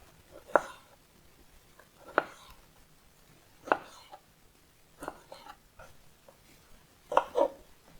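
A knife slices thinly through salty pickled cucumber on a board, giving five or six crisp, separate cuts spaced a second or more apart, close and fairly quiet.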